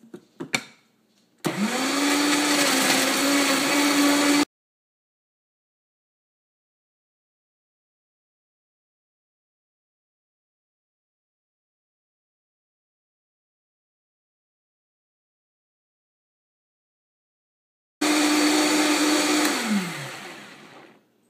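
A blender whirring through an apple raspberry green smoothie with golden flax seeds, starting with a rising whine, running loud for about three seconds, then silence before a second burst that winds down at the end.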